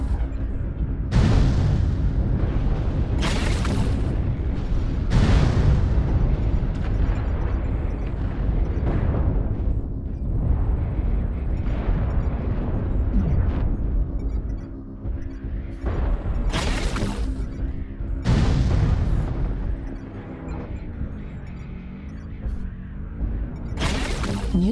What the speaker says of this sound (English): New target acquired. Artillery strike activated.